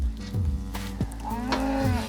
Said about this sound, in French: Stéphane se rend dans ses champs pour rendre visite à ses vaches.